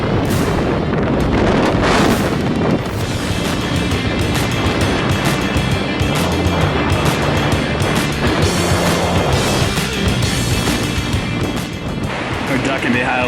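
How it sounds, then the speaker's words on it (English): Strong wind gusting at 40 to 50 miles per hour across an Oregon mountain ridge, loud roaring buffets battering the microphone, continuous and rumbling throughout. "it's like probably 40 to 50 mile an hour gusts coming through here, and we're on the ridge"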